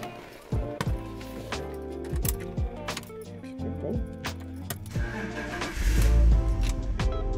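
A BMW E46 convertible with a tuned exhaust, its engine and exhaust rumbling with deep low throbs and revving, getting louder and heavier toward the end, alongside clicks and mechanical handling noises.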